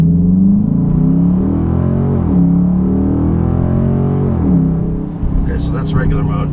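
2017 Dodge Charger Daytona with its 5.7L V8 and active exhaust in regular mode, a smooth loud engine drone that rises and dips as it shifts through the 8-speed automatic, heard from inside the car.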